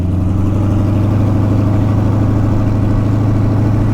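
A Boss Hoss V8 motorcycle engine runs steadily at 20% throttle, with a deep rumbling drone and no change in pitch across the whole stretch.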